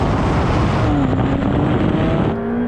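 A Ferrari 488 Pista, Lamborghini Aventador SV and Porsche 911 Turbo S drag race, their engines roaring loud and continuous with rising, shifting tones as the cars accelerate hard away.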